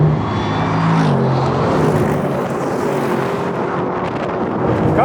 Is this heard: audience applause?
no